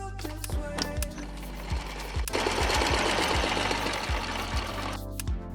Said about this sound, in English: I then sewed the new hem using a straight stitch.